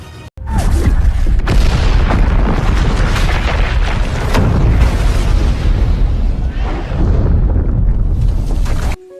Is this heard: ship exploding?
yes